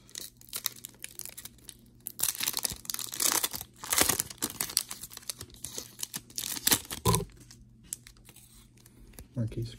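Donruss trading card packs being torn open, crinkly foil tearing and rustling in quick bursts close to the microphone, with someone talking throughout.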